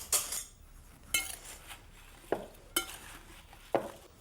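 A utensil mixes apple pie filling with allspice and pie spices in a bowl, producing about six distinct clinks and scrapes at irregular intervals, close up with quiet pauses between strokes.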